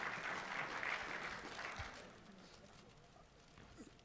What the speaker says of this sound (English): Ladies and gentlemen, please, a big round of applause for the chairperson of the South African Football Association,